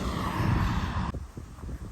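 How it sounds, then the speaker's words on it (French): Wind in the Var region buffets the microphone with a loud, rushing roar for about a second, then drops away suddenly to a quieter, patchy rumble. "Alors il y a le vent, hein."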